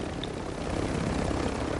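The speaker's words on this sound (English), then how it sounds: "Get on my cool chopper." A helicopter in the Call of Duty DMZ video game drones with a steady, dense rotor and engine rumble throughout, loud and close, with no talk over it.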